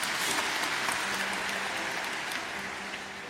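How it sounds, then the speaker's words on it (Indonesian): A church congregation claps during a service, a moderate wash of applause that holds evenly and fades slightly toward the end, heard at some distance with no talking over it. "Kasih tepuk tangan untuk Tuhan Yesus."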